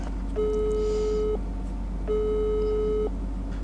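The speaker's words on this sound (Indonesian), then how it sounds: "Setelah itu gue nyoba buat nelpon Patricia." Two long electronic telephone tones sound in turn, each lasting about a second with a short pause between, close and clear over a low steady hum.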